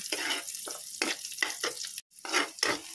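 Garlic sautéing in a pan for alamang, a close sizzle with repeated stirring scrapes in short bursts and a brief pause near the middle.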